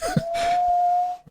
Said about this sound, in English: I guess he's whistling.